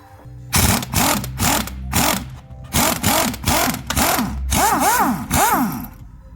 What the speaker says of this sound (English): So go ahead and unscrew this.